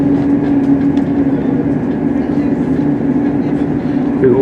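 A train runs toward Telford Central on the line continuing to Shrewsbury, giving a steady loud rumble and hum heard from inside with a faint rhythmic clatter throughout.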